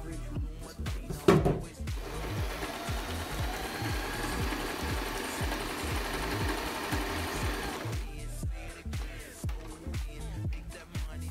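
A Butterfly domestic sewing machine runs a zigzag stitch, its rapid rhythmic needle clatter continuous at close range for several seconds, with handling clunks before and after.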